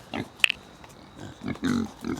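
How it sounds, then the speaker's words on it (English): American Guinea Hog pigs on a farm give a few low, soft grunts at close range, spread across a couple of seconds, with one short sharp squeal early on. "Let's go get one more good close-up look at the pigs before I let you go."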